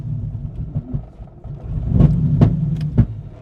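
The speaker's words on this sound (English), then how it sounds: "Backfiring like crazy." Widebody Corvette C5 with a swapped LS7 V8 idling roughly under a low rumble, then three or four sharp, loud exhaust pops spaced about half a second apart.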